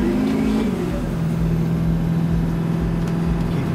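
A Duramax diesel truck engine held at full throttle with the accelerator floored gives a loud, steady, droning roar that dips slightly in pitch early on, then holds constant throughout.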